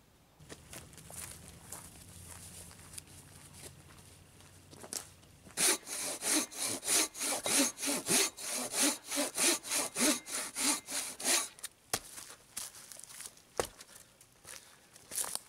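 A hand saw cuts through wood outdoors at a camp by a lake, with rapid rhythmic back-and-forth strokes, about a dozen loud rasping pulls in a burst, then a few scattered scrapes and taps.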